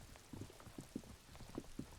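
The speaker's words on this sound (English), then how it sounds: "All around you, rain falls." Rain falls in the detective role-playing game Disco Elysium, a soft continuous patter with scattered heavier drops hitting a surface, faint and alone.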